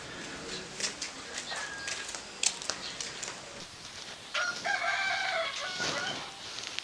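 A rooster crows with a drawn-out call near the middle, plus shorter clucks and bird calls over a rustling outdoor background. People talk faintly around it.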